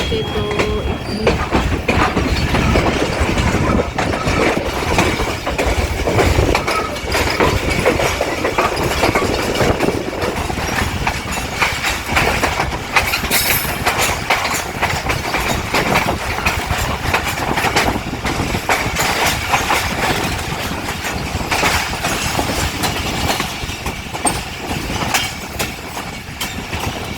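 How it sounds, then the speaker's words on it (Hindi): A passenger train from Karachi to Bahawalpur runs at night, a continuous loud rumble with rhythmic wheel clatter and occasional squeals heard from inside the carriage. "गाड़ी जो है वो आगे से टर्न कर रही है"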